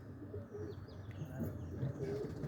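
Pigeons in a small roller loft on an early Sunday morning coo softly and low, with faint chirps and a brief flutter of wings, distant and quiet throughout.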